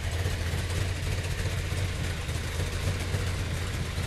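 A Chevy 454 V8 in a hot rod idles steadily at close range, a continuous deep low rumble with no pauses or revving and no talking.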